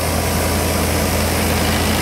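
A Sonalika 60 DI four-cylinder tractor engine runs at around 1500 to 1600 rpm while powering a 36x40 straw machine, giving a loud, steady, close drone with a constant low throb and no speech.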